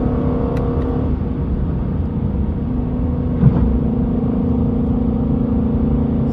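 A Lexus LC500 S Package engine holds a steady low rumble at cruising speed with road noise on a highway drive, loud and continuous without a pronounced climb.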